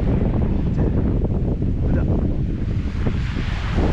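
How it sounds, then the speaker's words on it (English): Strong west wind buffets the microphone on a North Norfolk shingle beach at night, a loud, continuous roaring rumble with surf blended underneath. "there's a wicked wind coming from the west over my shoulder"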